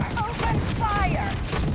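Gunfire rattles in the video game Starfield on a very hard difficulty, a burst of rapid shots mixed with whooshing effects, loud and close, while a voice calls out over it.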